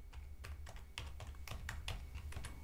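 Fingers type on a computer keyboard while entering a date into an Excel spreadsheet. About a dozen quick, crisp key taps come close and clear in an uneven rhythm, with no talking.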